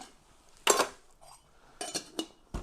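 Ice, about six cubes, and pineapple juice rattle inside a cocktail shaker for an alcohol-free mocktail, giving a few sharp, close clinking bursts with quiet gaps between them.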